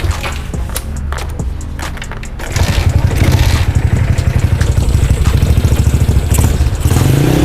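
A Yamaha LC135 motorcycle engine under riding, starting softer and then rising to a loud, steady, throbbing roar with rhythmic pulsing and wind rush close to the microphone.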